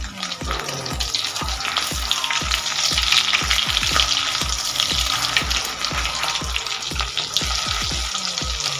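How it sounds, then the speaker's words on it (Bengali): Pieces of rohu fish coated in egg batter fry in well-heated oil, giving a loud, continuous sizzle and crackle, with repeated spatula clinks against the pan. "তেলটা খুব ভালোভাবে গরম হয়ে গেছে এবার এর মধ্যে মাছগুলো দিয়ে দেব দেখুন একটা ব্যাচ দিয়ে দিয়েছি লাল করে ভেজে নেব"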